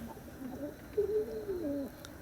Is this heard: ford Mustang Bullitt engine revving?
no